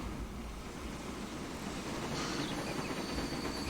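Trains run in the railway simulation game Transport Fever 2, giving a steady, broad rumble of rolling stock that continues unbroken, with a faint high whine joining partway through.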